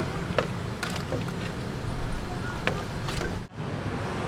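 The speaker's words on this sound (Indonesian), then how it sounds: "ada mobil, motor lewat" Steady roadside traffic rumble with cars and motorbikes passing along a street in Cideng, Jakarta, a broad continuous wash of engine and tire noise with a few brief sharper passes standing out.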